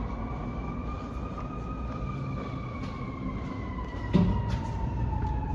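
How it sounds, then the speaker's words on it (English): A fire truck siren sounds as the engine pulls out of the fire department, its steady wailing tones rising and falling at moderate distance over continuous rumbling traffic noise, with a brief knock partway through. "I hear the fire truck."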